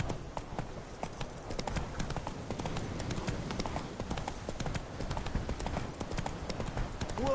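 Roach, Geralt's horse in The Witcher 3 game, walks at a steady clip-clop, hooves striking in a continuous even rhythm at close range with outdoor ambience behind, for the whole stretch.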